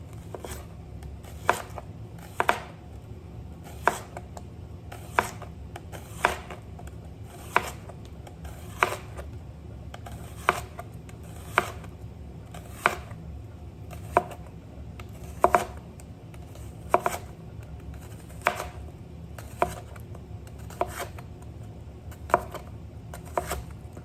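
Green onion being chopped with a knife on a board, a slow, fairly regular series of crisp separate taps over a low steady background hum.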